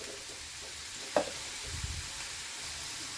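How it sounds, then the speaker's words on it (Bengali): Potatoes fry in a pan with a soft, low sizzle, and a brief clink of utensil against the pan is heard near the start, with no talking. "একটু লাল লাল করে আলুটা ভেজে নিতে হবে।"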